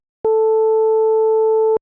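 A synthesized FM tone, with one frequency modulating another to create extra sidebands, sounds as a single steady note. It holds at an even level for about a second and a half, then stops abruptly. No one speaks.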